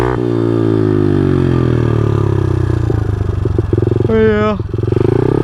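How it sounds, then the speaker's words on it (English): A small 110cc motorcycle engine with an exhaust fitted idles loudly and close up, its exhaust sputtering steadily, then briefly revs higher before dropping back. A voice speaks briefly. "get it started up, see how it sounds with the exhaust"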